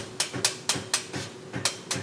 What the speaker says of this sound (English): This worker is hand hammering Yamaha's one-piece bells, which are made out of a single sheet of brass that gets soldered together along one seam.